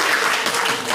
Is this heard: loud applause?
yes